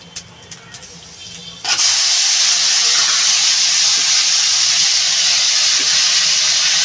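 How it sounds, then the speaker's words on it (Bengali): Cucumber pieces tipped into a hot pan of curry for a Bengali cucumber and hilsa fish-head dish, after a short clatter, burst into a loud, steady, broadband sizzle that holds on to the end, close by. "এবার আমি এই শসাটা ঢেলে দেবো।"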